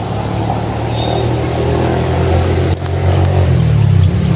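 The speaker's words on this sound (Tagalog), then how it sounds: "Meron na namang motor." A motorcycle engine passing along a road, loud and close, with a steady mid-pitched drone that swells slightly toward the end and no talking.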